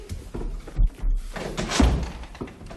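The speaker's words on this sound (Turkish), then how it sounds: "aç kapıyı" An apartment door is opened with a couple of close wooden thumps and a rattle of the latch, with people talking around it in a sitcom scene.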